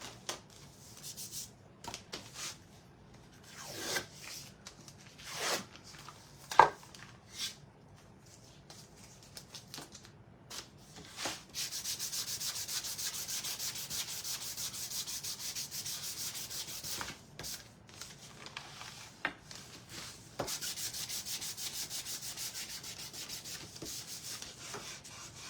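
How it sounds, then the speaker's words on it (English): A power sander grinds steadily against a wooden angel figure, a continuous abrasive whir broken by short bursts of scraping and rubbing. "Get my sander."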